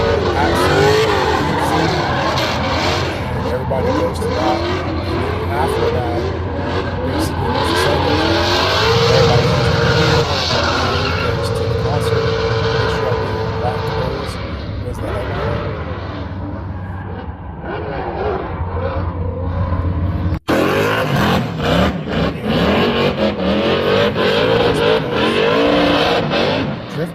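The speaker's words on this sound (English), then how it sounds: "Drifting." Drift cars at SEMA Fest roaring and revving hard, engines screaming continuously with tire squeal, loud and close, with brief shifts in intensity and some crowd noise and voices underneath.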